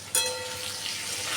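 Potato and tomato frying in a pan for a Bengali potato and pointed gourd curry give a steady, close sizzle throughout, with a sharp burst of crackling at the start.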